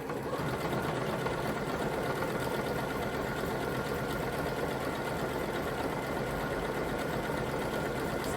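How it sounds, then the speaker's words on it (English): Sewing machine stitching a jeans-style buttonhole, zigzagging back and forth then sewing straight: a steady, fast, continuous mechanical whir with dense rapid needle clatter, close and constant throughout with no talking. "it's zigzagging back and then it will stitch straight forward and zigzag back again"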